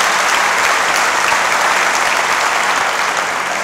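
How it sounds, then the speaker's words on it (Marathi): An audience at a motivational guidance camp breaks into loud, sustained applause, a dense and even roar of clapping that holds steady throughout with no speech over it. "म्हणून जोरात टाळ्या वाजल्या पाहिजे"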